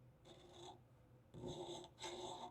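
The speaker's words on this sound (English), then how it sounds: "I just started filing away at it." A hand file rasping across a Taylor Freelance magazine baseplate for a Canik SFX Rival magazine, three close, faint gritty strokes, each lasting roughly half a second, separated by short pauses.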